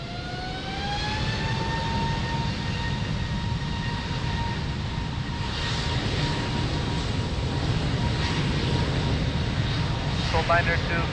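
A fixed-wing airliner takes off from runway 02 at Lisbon Airport, a steady loud jet engine roar with rising whine tones sustained throughout, while a voice talks faintly over it.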